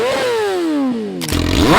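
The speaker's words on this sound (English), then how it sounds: "Let's go ahead and rev her up." A Yamaha R6 sport bike fitted with a full titanium exhaust and flashed ECU revs loudly, its engine note sweeping down in pitch before a sharp crackling burst and rising rev near the end, close and unaccompanied.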